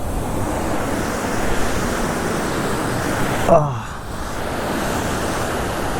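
Kumbe waterfall near Pune, Maharashtra roars in a constant, dense rush of water, loud and steady throughout, with a brief gust of wind partway through.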